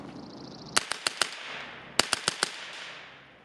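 AR-15 rifle shots, two quick bursts of four sharp cracks each, loud and close, with a short pause between the groups and no talking.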